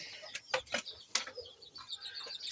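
Backyard chickens cluck in short, scattered bursts close by, with a few sharper squawks and bird chirps mixed in over a faint outdoor background.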